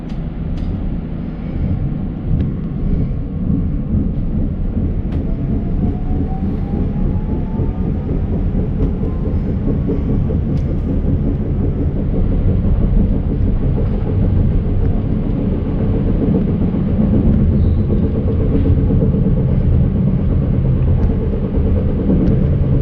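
Continuous rumble of a moving RE7 regional train to Senftenberg from onboard, low steady roar with faint rattling, loud and unbroken for the whole stretch.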